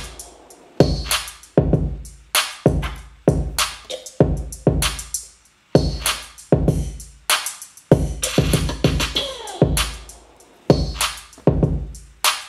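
Programmed drum loop in a beat, steady kicks and claps with a reversed pre-clap swelling into each clap, repeating in a tight groove, loud and upfront without speech.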